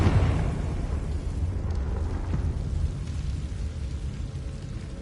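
A Confringo blasting spell in Hogwarts Legacy sets off a loud, rumbling explosion, heavy low-end boom settling into a continuous roar that slowly fades over several seconds.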